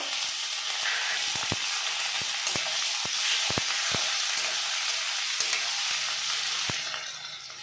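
Chopped onion and tomato sizzle in hot oil for a spicy tilapia curry, a dense continuous frying hiss punctuated by a dozen sharp spatter pops and stirring clicks, close and loud.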